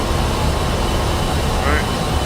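A-10C Warthog jet engines spooling up in DCS World flight simulation, a loud, continuous broadband roar and rumble that fills the whole moment, with voice chatter over it.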